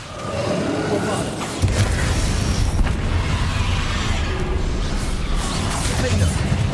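Spell blasts from Hogwarts Legacy gameplay, with a heavy low boom striking near 1.6 seconds and a dense, rumbling explosive wash continuing under a voice calling out spells.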